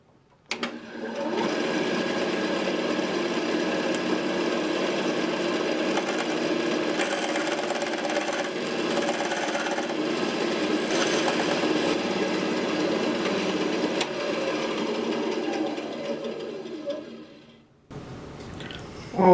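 A bandsaw cuts a mahogany table part in a workshop, one steady loud whine and rasp held for about fifteen seconds, then dropping away as the cut ends and the motor winds down.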